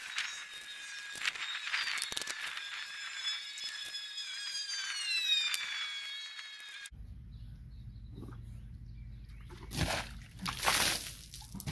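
Water slopping and splashing while an RV is washed down from a bucket, with a steady whine through the first half and a few louder splashy bursts near the end.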